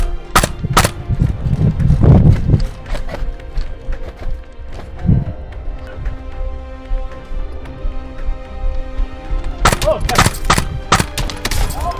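Airsoft gas blowback rifle fitted with an HPA adapter firing outdoors, with sharp cracks in scattered single shots and quick bursts, loud and close at the start and end, with quieter shots and rustling between.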